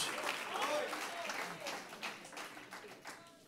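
A church congregation applauding for Christ during an evangelist's sermon, a burst of clapping that gradually thins out while a voice speaks over it.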